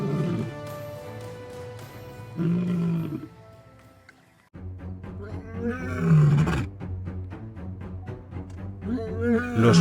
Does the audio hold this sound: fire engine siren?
no